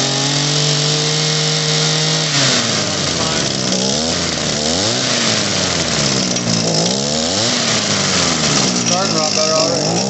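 An Echo HC266 hedge trimmer's small two-stroke engine runs steadily after a carburetor adjustment, loud and close for the whole stretch, its pitch rising and falling as the throttle is blipped several times. Nobody speaks over it.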